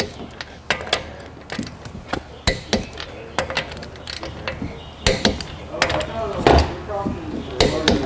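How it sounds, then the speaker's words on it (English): Wheel lug nuts on a Hyundai Elantra being torqued to 80 foot-pounds after a front brake job, a series of sharp metallic clicks and clanks from a torque wrench and socket at irregular intervals, close, with some talk in between. "we're gonna go around and make sure all the nuts are torqued to 80 foot-pound"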